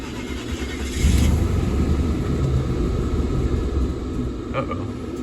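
Mercedes W124 E420 with the M119 V8 cranked over on a cold, snowy day, its engine rising to a steady low rumble after about a second and holding there, with a faint brief tick near the end.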